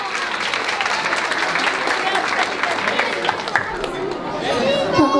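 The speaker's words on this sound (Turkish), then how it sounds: "kuvvetli bir alkış rica ediyoruz" Children and families at a Belgian Bulgarian-Turkish cultural association event give strong applause, clapping mixed with crowd chatter and voices, rising slightly toward the end.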